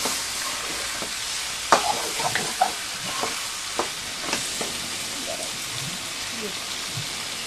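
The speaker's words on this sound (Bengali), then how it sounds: "একটু জল দিয়ে দিব, আবারও একটু নেড়ে চেড়ে ভালো করে কষে নেব।" Country chicken pieces stirred and simmered with a splash of water in a pan, giving a steady low sizzle with a few sharp scraping knocks of a spoon against the pan, with no talking.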